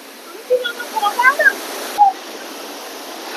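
A Nepal waterfall pours in a steady, broad hiss of rushing water. Several short, high chirps cut briefly across the roar in the first two seconds.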